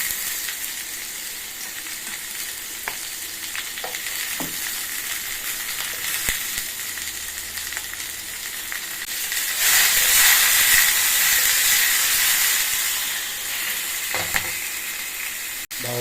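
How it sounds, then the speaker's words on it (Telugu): Green chillies and tomato pieces fry in oil in a pan for coconut chutney, giving a steady loud sizzle and hiss that swells midway, with occasional light clinks of a spoon. "మిర్చి టమోటా రెండు బాగా వేగనియాలి"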